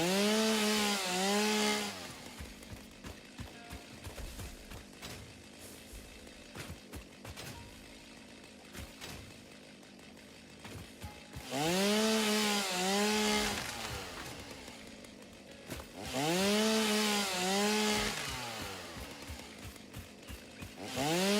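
Several loud revving bursts from a chainsaw in the video game Satisfactory, spaced apart by a lower, gritty cutting rumble with clicks as trees are felled and cleared.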